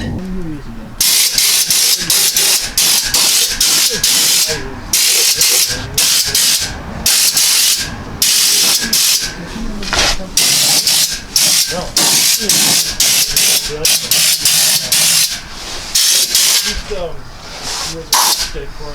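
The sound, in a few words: spray gun applying Fluid Film rust proofing under vehicle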